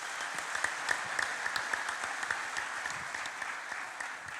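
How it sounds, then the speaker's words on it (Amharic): An audience at a church prayer gathering claps steadily for about four seconds, a moderately loud, even patter of many hands with no voices over it. "አጨብጭቡላት።"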